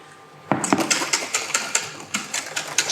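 Crème brûlée custard mixture being whisked by hand in a bowl, a quick series of rhythmic scraping strokes that starts abruptly and repeats steadily at close range.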